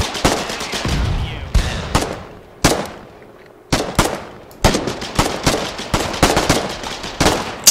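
Grenades launched and bursting in the war game Foxhole, a rapid string of sharp, loud blasts and pops with short gaps, some close and punchy, others trailing off, with no talking.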